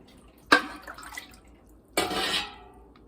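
Water poured into glass canning jars of salted sweet potatoes or butternut squash in a home kitchen, heard as two short splashing pours with a pause between, the second longer and fuller, close and fairly loud.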